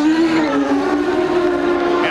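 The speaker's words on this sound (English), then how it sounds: "he's got the engine revs way up" A CART race car from 1994 at Portland revs hard as it leaves a pit stop, a loud, sustained high-pitched engine whine holding steady and close throughout.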